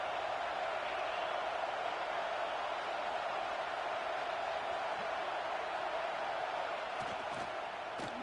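A college football stadium crowd roars during Oregon at Texas, a dense, continuous wash of noise held at an even level throughout, distant and unbroken, with a few faint knocks near the end.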